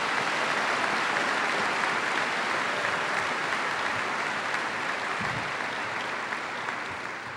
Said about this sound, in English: Please join me in a round of applause to thank these individuals for joining us today.